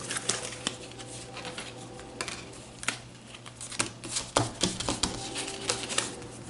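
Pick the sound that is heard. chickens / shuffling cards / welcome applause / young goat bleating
shuffling cards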